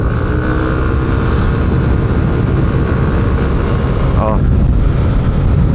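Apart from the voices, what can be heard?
Yamaha Aerox 155 scooter engine while riding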